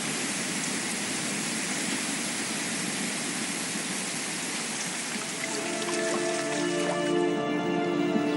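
Rain falls during the rainy season over flooded river country, a steady hissing patter that stays faint and continuous, with tonal sounds rising toward the end.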